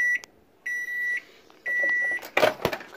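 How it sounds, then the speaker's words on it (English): A microwave oven, just finished heating a cup of water, gives three long electronic beeps, close and clear, followed by the clatter of the door opening and handling. "Grab your cup of hot water out of the microwave."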